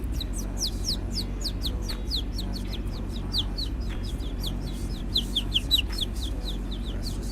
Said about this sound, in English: Bird time.